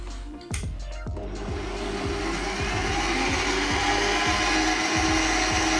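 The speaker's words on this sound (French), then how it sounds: "Je vais fouetter le tout, je vais faire blanchir les jaunes." A stand mixer whisks egg yolks with sugar for a chocolate and passion fruit Yule log, a steady loud motor whir with a rhythmic beater clatter running without pause after a brief start.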